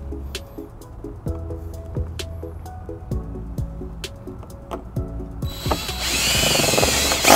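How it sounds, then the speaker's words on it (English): Power drill boring holes on a 2012 Kia Soul during trailer wiring installation, with short whirring bursts and clicks before a loud, continuous drilling run near the end. "we got our holes drilled"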